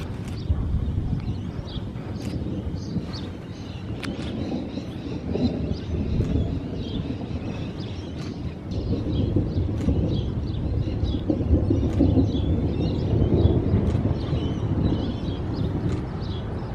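Low, continuous thunder rumbling through a storm with very low clouds, rolling on steadily under wind buffeting the microphone, with a few sharper cracks and some faint bird chirps above.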